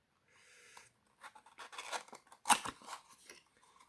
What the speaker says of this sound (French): Je vais ouvrir la boîte pour voir un peu